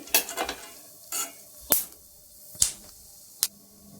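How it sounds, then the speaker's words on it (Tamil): Sharp, scattered pops and crackles of nuts dry-roasting in a pan, several irregular bursts a few per second, close by with no talking. "நமக்கு எப்படி பட் பட்டுன்னு சத்தம் கேட்குது"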